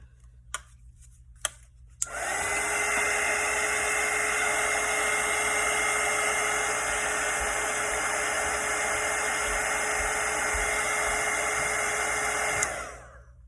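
A hair dryer drying acrylic paint on a Christmas snowman painting switches on after a couple of faint clicks and blows with a loud, steady whine. It runs without a break for about ten seconds, then cuts off abruptly, with no talking.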